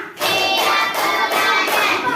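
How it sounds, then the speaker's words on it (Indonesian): A classroom group claps hands in a counted routine, with a run of bright, loud claps in quick, even succession close by, and faint children's voices mixed in. "Tepuk 1. Tepuk 2. Tepuk 3. Tepuk 4."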